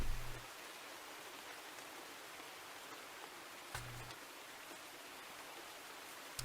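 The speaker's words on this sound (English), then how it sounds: "Now you can hear the rain." Steady rain falls as a continuous, even hiss that carries on unbroken throughout, faint and fairly distant, with a couple of brief low thumps breaking in near the start and again midway.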